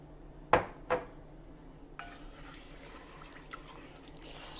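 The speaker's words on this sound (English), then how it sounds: "Stir this all around to mix it together" A utensil clinks and scrapes against a bowl while sugar, lemon zest, egg yolks and lemon juice are stirred together for lemon curd. Two bright ringing taps come first, then quieter scraping and faint clicks close by.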